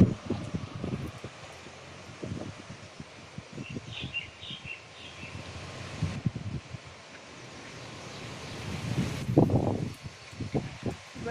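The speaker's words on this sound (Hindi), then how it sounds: "बड़ी तेज हवा चल रही है," Strong gusts of wind rush through rustling leaves under cloudy, pre-rain skies, with a few birds chirping faintly in the background.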